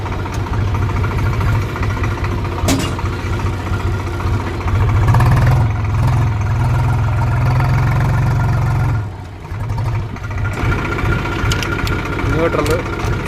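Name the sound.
Swaraj 735 FE tractor engine and transmission noise in gear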